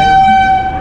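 A train horn sounds at an Indian railway station platform, one loud, steady, sustained tone held throughout with no talking.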